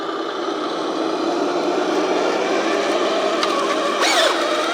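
A 1/14 scale RC ice road truck pulls a heavy load over uneven terrain, its electric motor giving a steady, close, continuous whine that swells slightly near the end, with a brief squeak.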